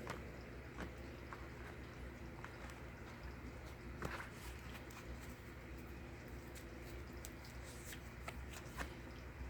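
A tarot card deck is shuffled and cut nearby, giving soft, quiet riffling and papery flicks with small clicks scattered through a low background hush.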